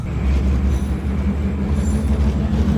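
Train riding on rails heard from inside a carriage, a loud steady low rumble with faint high wheel squeal, continuous throughout, no talking.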